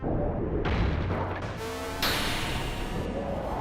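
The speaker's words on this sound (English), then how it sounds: "Fire the gravity cannon." The gravity cannon fires in the video game Xenogears with a layered synthetic burst, sweeping whooshes and a booming blast that swells and shifts over a few seconds.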